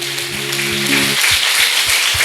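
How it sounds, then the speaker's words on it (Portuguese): A church congregation applauds together during a worship service, a dense, steady wash of clapping filling the space; at first a sustained organ or keyboard chord sounds underneath, then rhythmic low thumps continue beneath the clapping. "pode aplaudir o Senhor"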